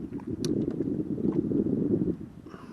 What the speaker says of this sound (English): The wind's picked up as predicted